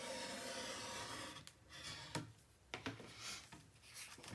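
A paper piece being burnished onto a mini album page gives soft rubbing and scraping strokes, a few brief sharper swipes between quieter stretches, close and faint.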